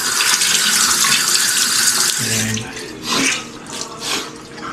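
Water runs steadily from a household tap, a loud continuous rush that eases after a couple of seconds, with a brief spoken word over it.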